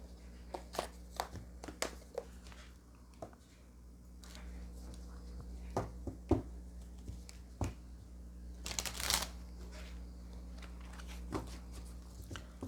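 A Kipper card deck is shuffled by hand: scattered soft flicks and taps of cards, then a brief denser riffle burst, close and fairly quiet against a low steady background hum.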